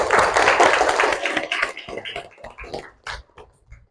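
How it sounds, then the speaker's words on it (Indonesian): A class led by a teacher claps together in a classroom, loud close clapping that thins into scattered claps and taps toward the end. "Oke, tepuk tangan dulu dong."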